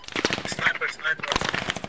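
Rapid machine gun fire in the military shooter game Squad, sharp repeated bursts close by, mixed with someone talking over it.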